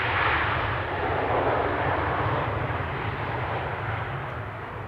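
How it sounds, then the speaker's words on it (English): A KLM Embraer jet lands at Amsterdam Schiphol Airport, producing a loud, steady roar with a broad rushing hiss and a deep rumble that stays strong throughout, slowly easing near the end, with no talk. "that's the Embraer from KLM that you hear land"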